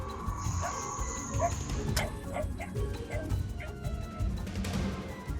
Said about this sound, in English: a scrappy little street dog shows up out of nowhere